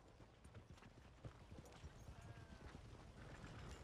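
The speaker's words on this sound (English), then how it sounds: "That's a strong-looking horse." Quiet, rapid horse hoofbeats clip-clop in a steady rhythm in Red Dead Redemption, sounding distant and soft against a low background hum.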